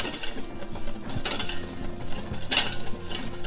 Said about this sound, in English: Yeah, just mix that together, or you can use a whisk.